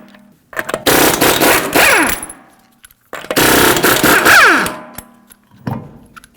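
Impact wrench spinning off lug nuts on a 2014-2019 Toyota Corolla front wheel, two loud sustained rattling bursts of about two seconds each, then a short final burst, close and alone.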